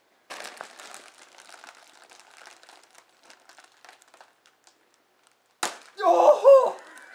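A hard-to-open popcorn bag gives soft, steady crinkling at first, then a pause, then a loud burst of rustling and crackling plastic up close, with no speech.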